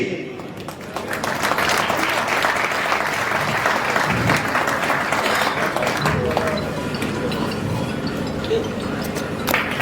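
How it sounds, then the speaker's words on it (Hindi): Audience applause at a national unity poetry gathering (kavi sammelan) in Azamgarh, a dense steady wash of clapping with crowd noise and some voices mixed in, lasting nearly the whole stretch. "जोरदार तालियों से स्वागत करें, सम्मान करें।"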